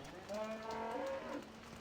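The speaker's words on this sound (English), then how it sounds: "say hello to the cows. Hello, cow." A cow in the farming video game Farming Simulator 17 lets out a single drawn-out moo lasting over a second, clear and moderately loud against faint background noise.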